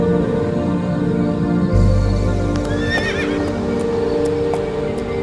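A horse named Mr. Thunder on a farm gives a loud, close whinny that wavers and falls, following a sudden onset of steady low noise, with a few sharp hoof clops afterward.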